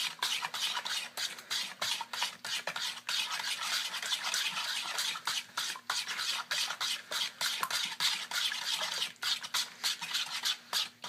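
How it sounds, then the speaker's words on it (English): Pumpkin pie filling is mixed by hand in a bowl while the bowl is turned, giving a steady, close wet stirring and scraping with quick repeated strokes that continue without a break and no talk. "So I mix with my right hand and I turn the bowl away from me with my left."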